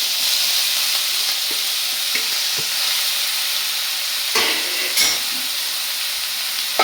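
Vegetables fry in hot oil with crushed chilli, a loud continuous sizzle with occasional stirring scrapes and clatters in the pan, no voices.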